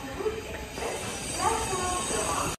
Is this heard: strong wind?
no